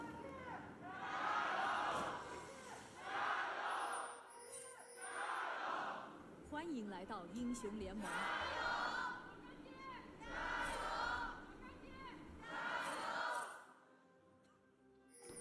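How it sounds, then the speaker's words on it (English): An esports arena crowd chants for team LGD in loud rhythmic waves of massed voices, rising and falling in repeated bursts across the whole stretch. "it sounded like a stronger chant towards LGD"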